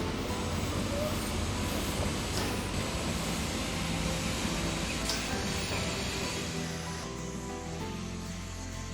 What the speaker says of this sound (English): Here comes another train going the other way.